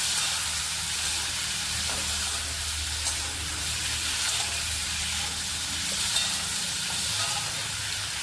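Bay leaf and garam masala frying in hot oil, a soft continuous sizzle and hiss with low rumble underneath, steady and unbroken for several seconds.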